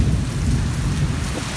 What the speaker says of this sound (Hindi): बहुत तेज़ तूफ़ान है